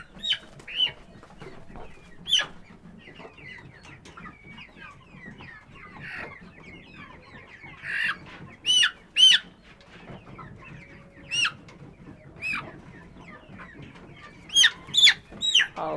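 Chickens cluck and squawk on a farm, a scattering of short, sharp calls from several birds, some close and loud, over a low, steady background murmur.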